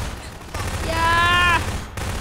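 Rapid gunfire in the video game Garry's Mod crackles in a dense burst, with a bright ringing tone midway and a low background hum.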